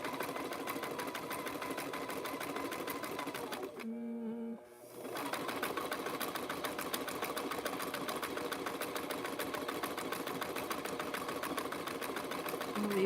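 Sewing machine stitching rope and fabric into coasters, a steady close whirring drone that briefly pauses and then resumes running continuously.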